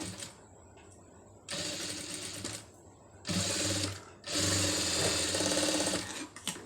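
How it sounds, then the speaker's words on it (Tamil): A sewing machine stitches a sleeve made from saree cloth in three separate whirring bursts, each running a second or more, split by quiet pauses, close and clear with no talk. "கரெக்டாக அப்படியே அந்த ஒட்டுலே தையல் போட்டுட்டு வந்துடுங்க"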